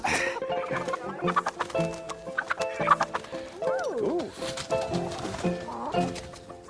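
A flock of chickens clucks continuously up close, overlapping calls and squawks rising and falling with no pause.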